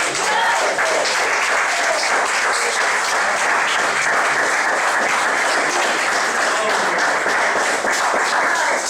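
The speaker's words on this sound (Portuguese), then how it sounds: "Mais aplausos, Senhor Jesus." Loud, steady applause from a church congregation, continuous clapping filling the space without a break.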